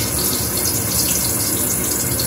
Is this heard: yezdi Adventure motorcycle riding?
no